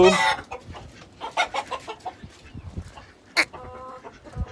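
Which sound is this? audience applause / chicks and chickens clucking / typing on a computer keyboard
chicks and chickens clucking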